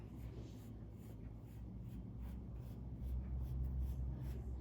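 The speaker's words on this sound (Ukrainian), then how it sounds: "І промальовую е, сердечко такого розміру, якого я хочу його зробити" A pencil drawing a heart outline on paper for a yarn valentine craft, soft faint scratchy strokes in short repeated bursts, quiet and close.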